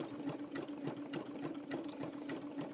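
Sewing machine stitching through coiled rope and fabric while making a rope tea cup and saucer: a continuous, even mechanical whir with a fast, regular needle chatter, close and steady, no speech.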